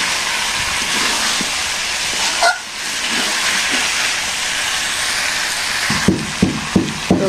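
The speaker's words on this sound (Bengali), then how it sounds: "বন্ধুরা পেঁয়াজ ভাজার পরে মাংসটা দিয়ে দিচ্ছি" Chicken meat added to fried onions in a village-style curry pot sizzles steadily with a loud hiss, a few knocks of stirring near the end, heard close with no talking.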